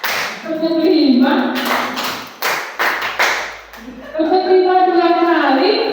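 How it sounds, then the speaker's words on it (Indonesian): A group, likely children, claps hands in a counted rhythm, a handful of sharp claps spaced about half a second apart, with sung or chanted counting voices before and after. "Tepuk satu, tepuk dua, tepuk tiga, tepuk empat"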